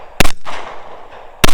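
Pistol shots ring out during a shooting-match stage, two loud, sharp reports about a second apart, close by and with no talking.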